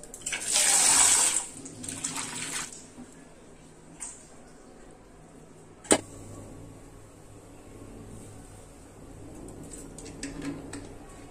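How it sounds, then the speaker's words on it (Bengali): Running water splashes loudly for a couple of seconds as thankuni leaves are washed, followed by a few clinks and quieter handling noises in a kitchen. "থানকুনি পাতাটা ধুয়ে নিয়েছি,"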